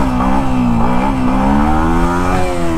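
Yamaha MT-15 (2023, dual-channel ABS) motorcycle engine revving hard during a wheelie, a loud steady engine drone with rising and falling pitch, close and continuous with no talking.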